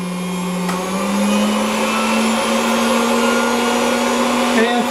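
A Hamilton Beach Model 40 triple-spindle milkshake mixer in original condition whirs steadily at medium speed, a loud, close motor whine whose pitch climbs slightly and then holds.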